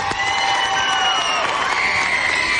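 A studio audience roars with cheering and applause for Shakira on a television variety show, dense and loud throughout, with shouted voices and whoops mixed into the crowd.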